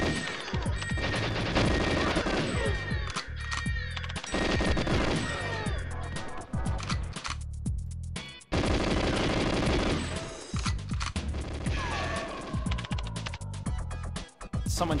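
Rapid gunfire in the video game GoldenEye 007, dense bursts of automatic shots and impacts firing almost nonstop, loud and close, with only brief breaks between volleys.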